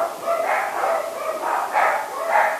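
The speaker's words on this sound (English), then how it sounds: "Oh, there's my dogs again." Several dogs bark repeatedly in a steady run of yaps and woofs, moderately near and fairly loud, with no talking over them.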